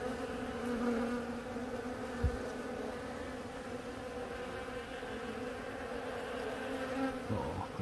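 Honeybees buzz continuously around late-winter hives in northern Wisconsin while feeding on pollen substitute, a dense, steady drone of many wings close by with no talking.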